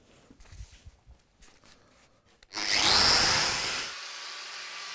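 A power tool grinds down a weld on metal to get it flat, starting abruptly after a stretch of quiet background and running loud and steady with a bright whine, then easing to a lower hum.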